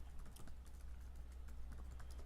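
Rapid keystrokes sound on a computer keyboard as a command is entered, a soft, close run of clicks at an uneven pace over a low hum, with no talking.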